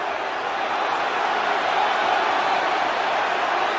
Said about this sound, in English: You can hear the crowd react.